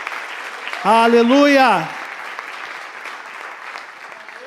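A church congregation applauds the Messiah in a steady wash of clapping, broken by one loud sung shout of praise before the clapping carries on more softly.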